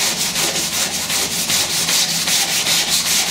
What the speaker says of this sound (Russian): Ну и берем 120-ю шкурочку, сильно крупную не будем брать. Ну и начинаем затирать, также мы с водичкой будем тереть.